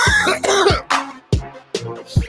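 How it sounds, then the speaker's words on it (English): A series of harsh coughs, five or six bursts in quick succession, close and loud with brief pauses between. "Based off of your cough."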